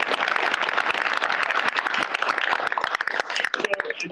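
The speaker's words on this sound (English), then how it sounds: "round of applause for Jeff." An audience claps for a guest speaker at an entrepreneurship talk, a dense, even patter of many hands that carries on steadily and thins slightly near the end.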